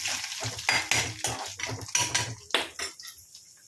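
Chana dal and green chilies fry in a pan while a utensil stirs them, giving repeated close metal scrapes and clinks over a low, soft sizzle.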